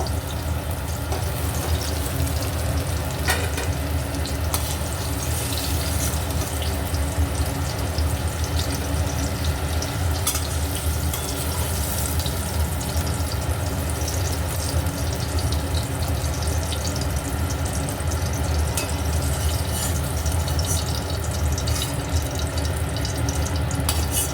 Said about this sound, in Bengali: কুমড়োগুলো আমি লাল লাল করে ভেজে নিয়েছি আর কুমড়োগুলো আমি তুলে নেব